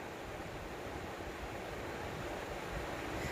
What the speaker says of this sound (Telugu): ఈ 3 వాటర్ ఫాల్స్ మధ్యలో నుంచి ఫ్లో అవుతూ ఉంటాయండి